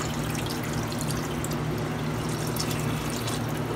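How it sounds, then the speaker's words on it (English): Water pours steadily into a stew pot of roux for shrimp and crab stew, a continuous close rushing splash with no pauses. "I'm going to add this water."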